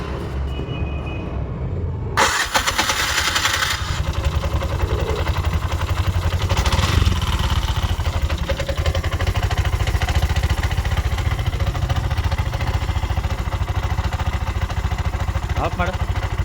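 A 2024 Bajaj BS6 CNG auto rickshaw with starting trouble cranks and catches, settling into a loud, steady mechanical engine rumble while people talk nearby.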